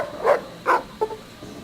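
Rex, a robotic dog in the game Fallout New Vegas, gives three short barks followed by a softer fourth, close and clear with no talk over them.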